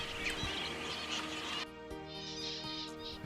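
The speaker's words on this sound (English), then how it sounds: "Zebra finches are flock birds." A flock of zebra finches calls from a tree at a staging point, giving scattered high chirps over a steady, noisy outdoor background.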